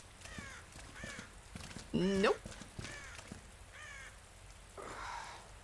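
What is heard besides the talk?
crows cawing in video game Dead by Daylight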